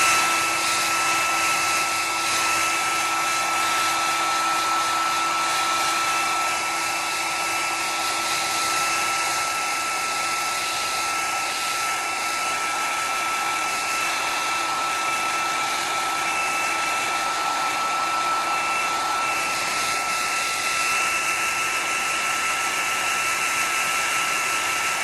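A new Revlon rotating hairdryer running on setting 2, a steady loud airy whoosh with a constant motor whine, held close and unchanging throughout.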